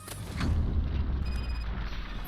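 A door-breach explosion in Robocop: Rogue City sets off a single loud, deep boom that rumbles on briefly, with no speech over it.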